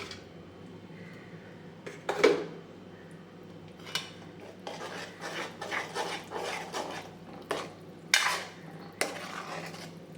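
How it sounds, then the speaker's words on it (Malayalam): A spoon stirring hotel-style pulissery curry in a pan, a series of irregular scraping clinks against the metal, close and distinct over a low background hum, with no voices. "ഇത് നന്നായി ഇളക്കി യോജിപ്പിക്കണം."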